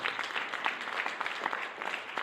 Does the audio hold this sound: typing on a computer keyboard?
no